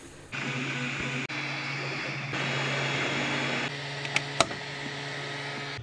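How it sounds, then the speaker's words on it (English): A ten-year-old 3D printer runs at close range with a steady mechanical whir and a tonal motor hum, its texture shifting a few times, with a couple of sharp clicks near the end. "put it in my 10-year-old 3D printer and set it to work"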